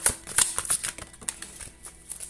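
Angel tarot cards being shuffled by hand, a quick run of soft papery riffles and flicks in close, irregular bursts with no talk.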